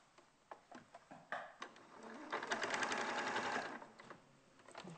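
A domestic sewing machine bastes toy pieces into position, starting with a few short separate stitch bursts and then running in a steady, close, rapid stitching run before it stops, with no talk.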